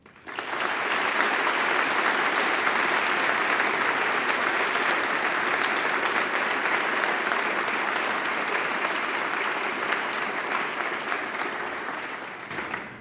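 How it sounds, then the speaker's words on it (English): An audience at a medical school white coat ceremony gives sustained applause for the families who came to support the class, a steady wash of clapping lasting about twelve seconds before it trails off. "help me applaud those that have come from near and far to support you on this special night"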